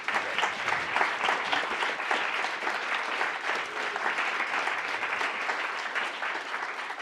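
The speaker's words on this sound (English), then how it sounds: "I would love to give a round of applause to this panel." Steady, dense applause from a seated audience at a data and civic-technology conference, rolling evenly for the whole stretch without pause and with no voices rising above it.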